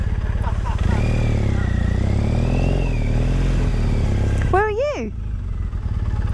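A motorcycle engine runs at a steady idle with a rising and falling rev, a continuous close rumble, while voices briefly talk near the end.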